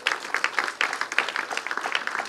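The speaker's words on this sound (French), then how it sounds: "On peut applaudir le Seigneur." Church congregation clapping together in praise, a dense burst of hand claps that is close and lively and lasts a couple of seconds.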